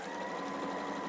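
A sewing machine runs a quick burst of stitching while a bag and draught excluder are being made, steady and close.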